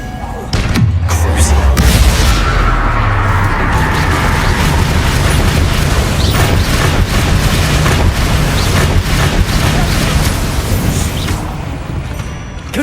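A Bombarda spell explodes in Hogwarts Legacy, a deep booming blast that rolls into a long sustained rumble of crumbling debris, loud and close throughout.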